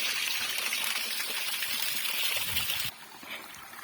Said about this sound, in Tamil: இதை கூட ஒரு குட்டி அருவின்னு வச்சுக்கலாம் நம்ம